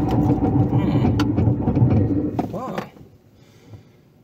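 A 2019 Nissan Frontier Pro-4X truck engine accelerates with a loud, close roar for about three seconds, then drops away to a quieter hum.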